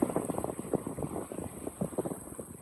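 Water washing and splashing off the stern of a Buccaneer 18 sailboat on a broad reach on a lake, a steady close rush of turbulent wake mixed with wind buffeting the microphone, no talk.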